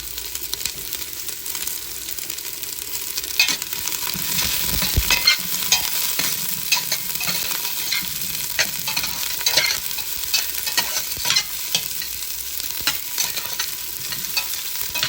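Chopped onion and ginger sizzle and crackle steadily in hot oil as aromatics fry for a mussel soup, with occasional stirring clicks over an even, close hiss.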